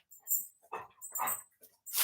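A dog whimpers in a few short, high-pitched bursts indoors, the whines coming in quick separate pulses with brief pauses between them.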